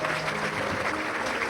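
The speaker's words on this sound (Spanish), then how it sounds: "Es recibido también con aplausos" Dense, steady applause from a ceremony crowd greets an incoming president, heard at a distance and fairly soft, with no break throughout.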